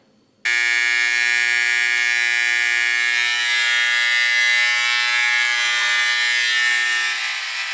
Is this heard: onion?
no